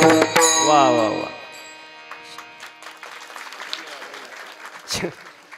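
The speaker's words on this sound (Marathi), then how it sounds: "असं टाळी वाजवू वाटली तर वाजवायची" Audience clapping at a lively kirtan in Kanersar, Khed: a voice rings out first, then scattered, uneven hand claps patter for several seconds at moderate distance, with one louder burst near the end.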